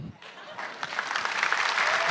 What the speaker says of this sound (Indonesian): tepuk tangan buat Coki